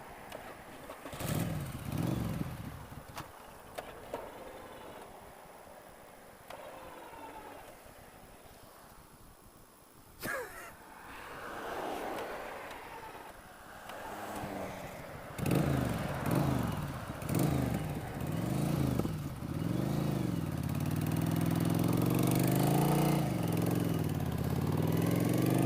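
A 1988 Yamaha XV1100 Virago V-twin motorcycle sputters, stalls briefly, then catches and revs repeatedly in rising and falling bursts, loud and close, settling into a sustained high throttle hold.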